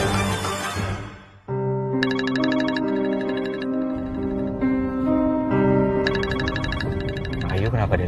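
A phone rings out with a repeating electronic melody for several seconds and nobody picks up, after a brief burst of noise at the start.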